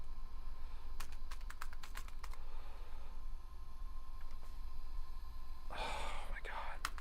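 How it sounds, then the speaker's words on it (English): Keys clatter on the worn keyboard of a 1991 Dell laptop in a series of quick, sharp clicks, followed by a dense burst of rapid typing near the end, all over a steady background hiss. "This keyboard sucks,"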